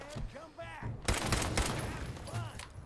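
Bursts of gunfire from a Fallout 4 raider fight ring out in rapid clusters, loud and close, while voices talk over parts of the shooting.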